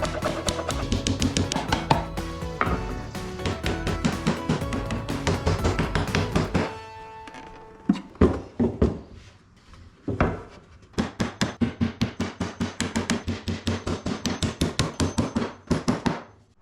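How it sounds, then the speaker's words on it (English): Steady hammer blows driving 2-inch finish nails into wood for a toolbox, a long run of rapid sharp strikes, a pause with scattered knocks, then another quick regular series of taps. "Let's go ahead and nail everything together."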